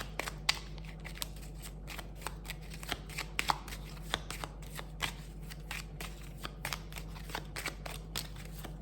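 Lenormand oracle cards being shuffled by hand, a steady run of crisp riffling clicks and soft flutters at close range, quiet background with no talking.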